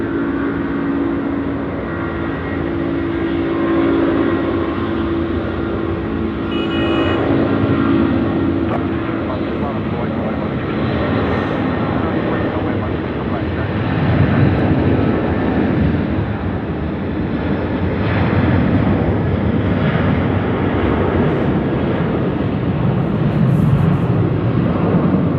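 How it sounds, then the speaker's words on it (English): A Malaysia Airlines airliner with Pratt & Whitney PW4000 engines spools up at Sydney Airport at night, a loud, sustained roar that swells and holds, with faint talk beneath it. "I didn't want to talk over the sound of the Pratt 4000s doing a little bit of work there"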